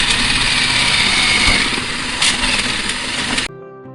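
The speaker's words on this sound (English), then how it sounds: "Grind them in the mixer, then roast." A mixer grinder crushes soya chunks with a steady, loud motor whine that runs continuously for a few seconds, then cuts off abruptly.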